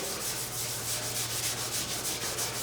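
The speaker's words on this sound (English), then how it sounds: "use your green Scotch-Brite" A green Scotch-Brite pad rubs back and forth over a corner of a restored truck cab, giving a steady, close abrasive swishing in even strokes, without voices.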